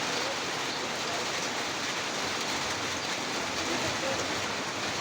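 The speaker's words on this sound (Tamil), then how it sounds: "பார்த்தீங்கன்னா நல்லா மழை பெய்யுது" Heavy rain falls in Kodaikanal as a steady, dense hiss of water with no breaks, fairly loud and even throughout.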